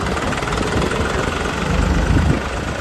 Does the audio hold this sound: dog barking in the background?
no